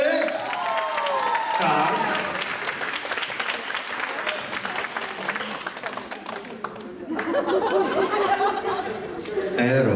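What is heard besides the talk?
audience applause at an Italian party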